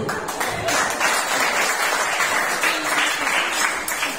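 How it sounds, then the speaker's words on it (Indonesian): A crowd at a church youth retreat claps together in sustained applause, a dense, steady wash of many hands with no break from start to finish. "Aplaus dulu."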